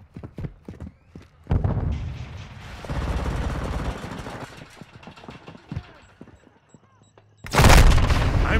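Call of Duty video game gunfire: scattered sharp shots early, then a longer stretch of sustained firing and noise, a lull, and a loud close burst at the end, with voices under the action.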